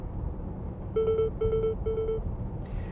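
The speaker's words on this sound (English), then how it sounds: "that sound is the lane departure warning" A 2013 Volvo XC60 R-Design's lane departure warning sounds as three quick electronic beep pulses in a row, clear and steady above a low road rumble.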